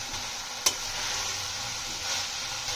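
Grass pea greens and eggplant fry in a pan, producing a constant soft sizzle as they are stirred, with one sharp clink of the utensil early on and no speech.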